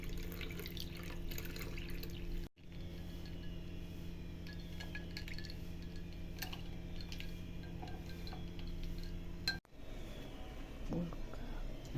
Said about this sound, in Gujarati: હવે તેમાં પાણી એડ કરીશું.